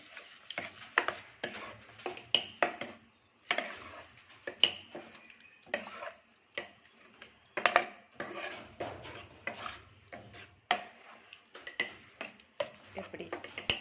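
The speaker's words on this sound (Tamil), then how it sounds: "இப்போ நல்லா கிண்டி விட்டுக்கிடுவோம்" Chow chow dal kootu being stirred in a pan with a spoon, giving repeated scraping and clinking strokes in an uneven rhythm, fairly close and moderately loud, with short pauses between bursts.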